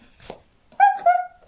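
Puppies give a faint whimper, then two close, high-pitched yelping whines in quick succession, fairly loud and near.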